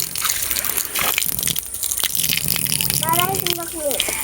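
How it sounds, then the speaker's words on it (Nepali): Water is poured and splashed over a buffalo as it is bathed in a village setting, with irregular gushing and sloshing bursts close by while a person talks over it. "अब अलिक पानी हाल्नु पर्ला"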